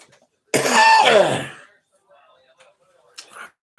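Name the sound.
coughing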